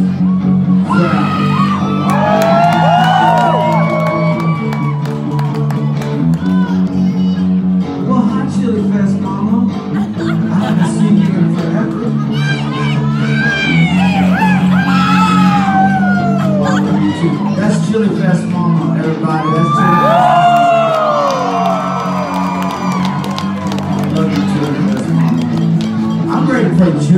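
A concert crowd at a band show whoops, yells and cheers in repeated loud swells over sustained, steady music, continuing throughout.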